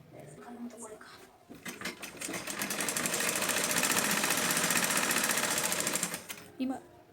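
A sewing machine stitches lace onto a blouse sleeve, starting with a few short bursts and then running in one long, fast, steady whir up close, with someone speaking around it.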